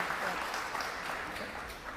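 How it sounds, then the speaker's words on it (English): Audience applause at a live talk, a dense continuous wash of clapping throughout, fairly loud and even, with no voices over it. "that was a thunderous applause in comparison to Cambridge"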